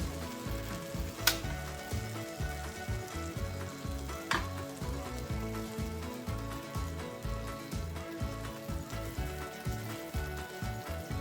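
Just Egg vegan egg batter sizzling and spitting in an oiled pan that is sticking a little, a steady close crackle of frying with a couple of sharp clinks from the pan.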